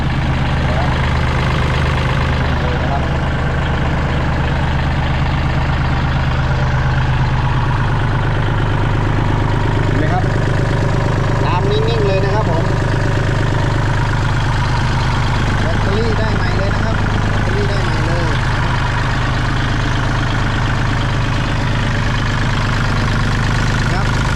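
A Kubota L3608 tractor engine idles steadily with a low, even rumble running throughout, close by, while someone talks over it.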